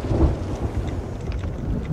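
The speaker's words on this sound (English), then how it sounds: "I hear a storm rumbling in." Thunderstorm in the pirate video game Sea of Thieves, a loud low rumble of thunder over steady rain, heard alone without talk.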